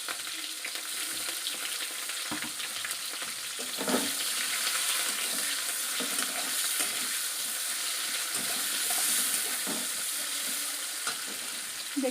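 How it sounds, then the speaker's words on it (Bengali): Chopped onions fry in hot oil with whole garam masala, bay leaf and dried red chilli, a steady close sizzle with occasional stirring scrapes and soft clinks throughout, with no talking. "পেঁয়াজটা ভাজা হোক"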